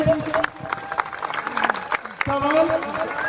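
Audience clapping to welcome college qawwali singers onstage at a comedic qawwali performance, scattered bursts of applause rising and falling across the room with voices mixed in.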